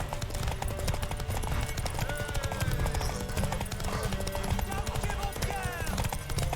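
Horse hooves clatter in The Witcher 3: Wild Hunt, a rapid continuous clip-clop of galloping mixed with game effects and occasional character voices over the top.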